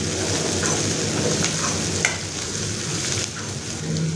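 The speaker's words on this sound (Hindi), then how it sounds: "अब अदरक लहसुन और प्याज को हमें अच्छे से फ्राई करना है" Steady, close sizzling of ginger, garlic and onion frying in hot oil, with occasional stirring scrapes, continuous and fairly loud throughout.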